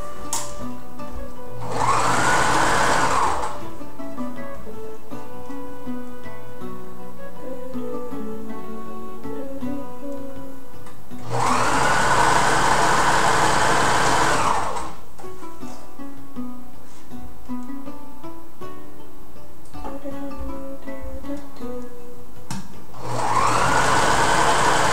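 A sewing machine stitches flowy fabric for a cocktail dress in three separate runs of fast, whirring buzz, each a few seconds long, with quiet background music between them.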